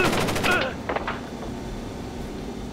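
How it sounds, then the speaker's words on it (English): Gunfire from the video game Splinter Cell: Double Agent as an agent is cut down at a geothermal plant: a quick hail of sharp shots in the first second, then a few scattered reports fading into low ambient rumble. "his partner John is captured and is cut down by a hail of gunfire"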